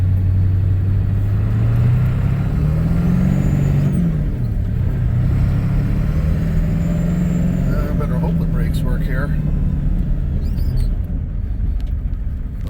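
A 1999 Ford F250 with the 7.3 engine drives along with a loud, continuous low rumble, the engine note rising and falling with speed, plus cabin rattles and road noise.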